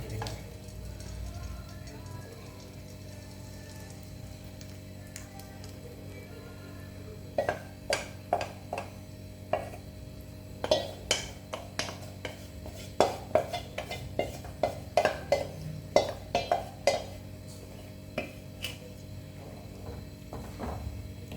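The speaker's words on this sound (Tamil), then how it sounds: "ஸோ இப்போ ஆட் பண்ணிவிட்டு கொஞ்சம் கூட கேப் விடாமல் கிண்டிக்கிட்டே இருக்கணும்" A spoon stirs a karupatti jaggery and flour mixture into ghee in a pan, making a quiet sizzle with a growing run of sharp scraping taps and clinks against the pan.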